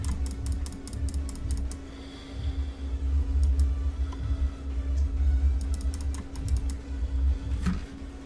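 Rapid clicking during the space game Hellion, quick bursts of sharp keyboard-like clicks in clusters at the start, middle and end over a low steady hum.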